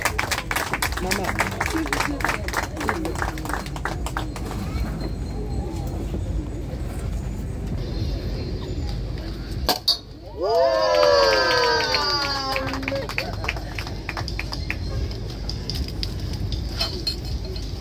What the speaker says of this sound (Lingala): Vous pouvez acclamer quand même très fort.